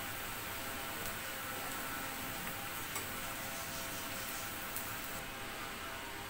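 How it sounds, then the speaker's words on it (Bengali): Onions and cumin frying in oil, a steady soft sizzle with faint ticking and stirring, low and unbroken throughout. "জাস্ট এই পেঁয়াজ আর জিরাটা ভেজে তুলে নিলাম"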